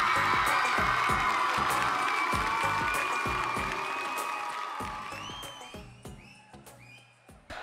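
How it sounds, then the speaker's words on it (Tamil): An auditorium audience at a film pre-release event claps loudly and cheers to welcome a performer. Dense applause with whoops holds strong at first, then thins and fades toward the end. "ஸோ ஒரு பெரிய கைத்தட்டலோட லெட்ஸ் வெல்கம் லிடியன் நாதஸ்வரம் அவர்கள்."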